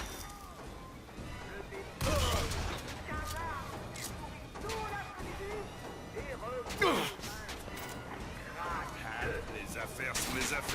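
Gunfire in the first-person shooter Bioshock Infinite, with impact bursts around two and seven seconds standing out over a steady bed of game noise and music while people talk throughout.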